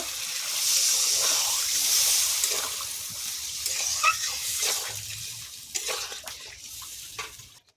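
Water poured into a pan of spicy Bengali egg and potato curry, a splashing rush that swells early then breaks into sputters and sharp bubbling pops as it settles.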